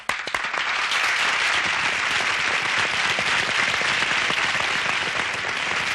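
A theatre audience breaks into sustained, loud applause, dense clapping from many hands that starts abruptly and holds steady for several seconds.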